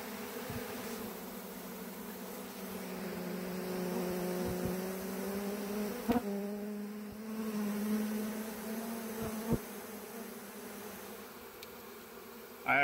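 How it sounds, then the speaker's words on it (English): A swarm of honeybees arriving, heard from within the swarm as a steady, droning buzz of many wings surrounding the listener, with a few brief knocks and no talk. "It was a very weird feeling to be standing in the swarm of bees"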